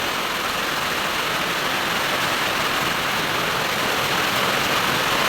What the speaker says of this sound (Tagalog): Kung inyo ang madunggan ang ulan, grabe ka kusog.